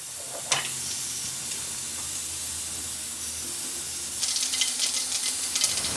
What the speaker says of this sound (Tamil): ஆயில் நல்லா காயட்டும். கொஞ்சமாக கடுகு போடுறேங்க.